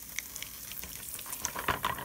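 Cornbread johnny cakes fry in hot grease, giving a soft continuous sizzle with a few brighter bubbling pops near the end, heard up close with no talking.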